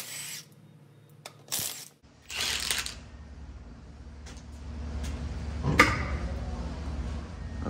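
Ratchet wrench with a 14 mm socket breaking loose the rear brake caliper bolts on a 2003 Trailblazer: a few sharp, close metallic clicks and snaps in short bursts, separated by quiet gaps and low background noise.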